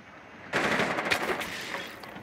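Automatic machine gun fire in the tactical shooter Rainbow Six Siege, a sudden loud sustained burst of rapid shots starting after a brief quiet lull and continuing to the end.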